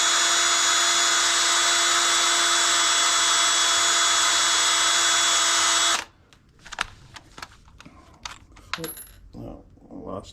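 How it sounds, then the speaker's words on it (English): A power drill whines loudly and steadily for several seconds spinning a pen against sandpaper, then stops, followed by light scraping and clicking handling sounds. "So I just put my pen in the drill and"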